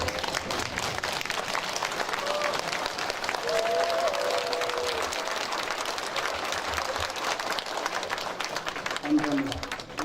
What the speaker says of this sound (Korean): 우리 조합장님을 위해서 기립박수 한번 칩시다